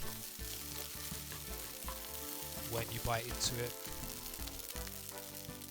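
Egg fried rice sizzling in a hot pan as a utensil breaks up the rice and egg pieces, a steady frying crackle with stirring scrapes under a voice.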